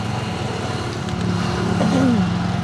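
A motorcycle engine drones steadily from behind, rising slightly as it approaches, under constant road and wind noise, with no clear talking.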